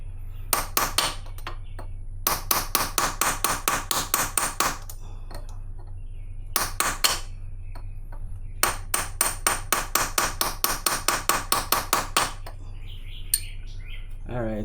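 Hammer blows drive a punch against the sprocket lip on a Kawasaki Versys 650 during a 15/44 Superlite sprocket and DID chain install, close and sharp metallic taps coming in quick rhythmic bursts of a dozen or so strikes separated by short pauses.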